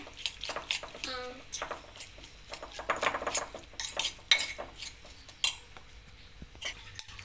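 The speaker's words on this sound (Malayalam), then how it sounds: "പിന്നെ ആവശ്യത്തിനുള്ള ഉപ്പ് നല്ലോണം മിക്സ് ചെയ്യണേ" A utensil clinks and scrapes against a pan while ingredients are mixed with salt, giving a run of close, uneven taps and clatters. A voice is heard briefly near the start.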